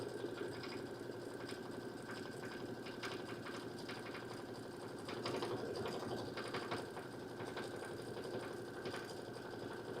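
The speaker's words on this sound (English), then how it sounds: "I'm going to let it sew around twice because I may nick a stitch" An embroidery sewing machine stitching scalloped placemat edges hums steadily with a fast, even needle rattle, close and continuous, with no talking.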